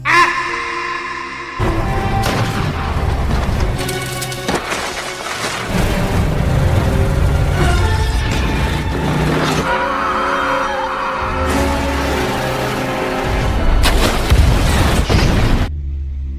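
A film action scene where a car hurled with a spear explodes: heavy booms and crashing debris, with rumbling impacts and skidding sounds in bursts separated by short silences.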